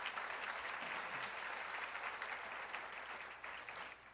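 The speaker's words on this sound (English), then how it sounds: "let's give another big round of applause for all of the honorees for today." Sustained applause from an audience at a volunteer awards ceremony honoring the day's honorees, dense even clapping heard a little distant and soft, tapering slightly at the end.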